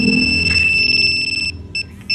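A Kawasaki Barako motorcycle alarm remote beeps in silent mode, giving a loud sustained electronic tone that cuts off and then returns as two short beeps, close up with no talk.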